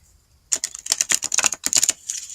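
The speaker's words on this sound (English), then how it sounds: "That was an interesting shuffle." A deck of playing cards being shuffled close up: a quiet start, then a dense run of rapid crisp flutters and clicks, a brief pause, and a second burst of riffling.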